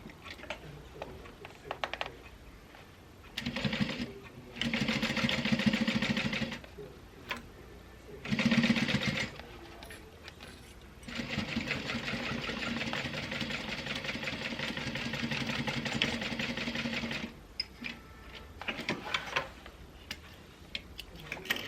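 A sewing machine stitching a milk box bag runs in bursts: short runs, then a long steady run of rapid mechanical ticking and whirring, with pauses and handling noises between, close and moderately loud with no talk.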